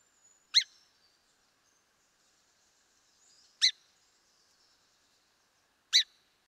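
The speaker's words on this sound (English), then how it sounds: "The next guy I'm going to play is the song sparrow." Three short, bright song sparrow phrases played from a recording, each a brief burst spaced a few seconds apart against near silence, clear and close.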